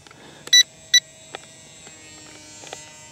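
Two short, sharp electronic beeps close together from an RC plane transmitter, followed by faint clicks and a low steady hum.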